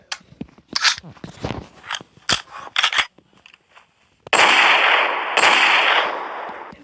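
A modded gun, a Desert Eagle, firing in a video game: sharp cracking shots in an irregular burst, followed by a sustained loud roar, with a voice talking over it.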